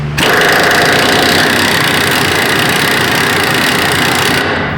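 Rusted leaf spring shackle bolts on a 2011 Dodge Dakota are spun with a loud, steady power tool that whirs and rattles continuously for several seconds, close up, then stops abruptly.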